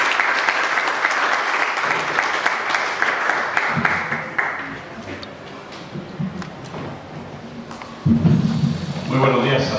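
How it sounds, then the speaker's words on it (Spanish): A lecture audience welcomes a speaker, Dr. Emilio, with loud, dense applause that fades after a few seconds into scattered claps, room noise and voices. "Damos la bienvenida con un fuerte aplauso al doctor Emilio"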